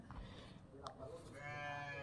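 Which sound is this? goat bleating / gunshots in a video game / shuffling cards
goat bleating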